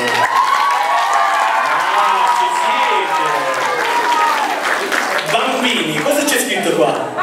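Warm applause and cheering from an audience at a carnival magic show, dense clapping mixed with excited children's voices and someone talking over it.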